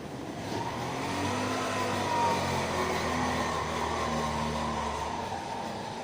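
Steady engine noise from passing auto rickshaw traffic, a continuous rumbling drone with slight revving, fairly loud and without any talking.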